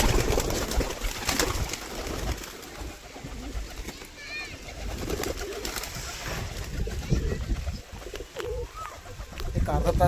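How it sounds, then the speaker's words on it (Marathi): Pigeons coo in soft, repeated calls outdoors as they are set free at a Nagpanchami gathering, with chirps and people talking throughout. "आता मीच कबूतर सोडणार आहे"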